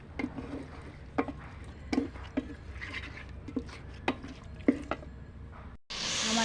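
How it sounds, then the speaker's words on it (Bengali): Spiced beef coated in mustard oil is stirred in a pan, a faint low sizzle under regular spoon knocks and scrapes, followed by a sudden louder hiss at the end. "আমি ভালো করে কষাবো।"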